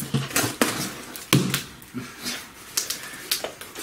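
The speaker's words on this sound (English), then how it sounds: "Scissors." Several sharp, close snips and crinkling sounds, like scissors cutting through sticky tape, coming in quick irregular bursts.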